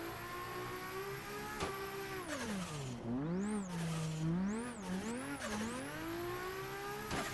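A drift car with toe settings making it loose revs hard and continuously, the engine pitch rising and falling sharply as the tires squeal while sliding, loud and close.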